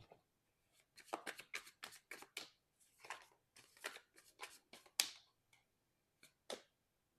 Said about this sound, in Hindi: अब दूसरी पाइल से कार्ड निकालते हैं।